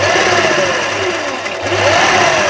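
A sewing machine runs a steady continuous stitch while sewing a garara, its motor humming at close range without a break and with no voices.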